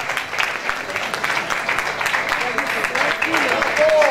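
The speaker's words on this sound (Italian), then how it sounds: "Applausi" Sustained applause from an audience at a live show, steady dense clapping throughout with a slight swell near the end, mixed with crowd noise and voices.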